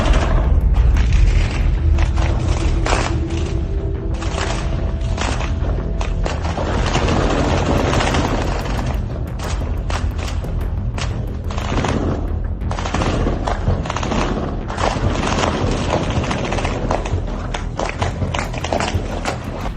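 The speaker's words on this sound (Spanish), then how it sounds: "el atronador sonido de un combate a muerte entre sicarios y elementos de la Guardia Nacional" Sustained exchange of gunfire between gunmen and National Guard troops in Mexico, heard from inside a neighbor's house: dense volleys of shots and heavy booms, loud and continuous throughout with no pauses.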